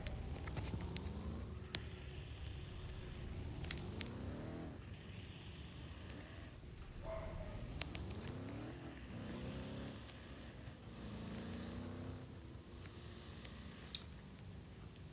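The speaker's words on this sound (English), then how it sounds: "I need to go hop in my vehicle here." A sheriff's police car driven in the Roblox game ERLC during a role-play pursuit, its synthetic engine revving in repeated rising sweeps as it accelerates and shifts, fairly quiet and steady with no talking.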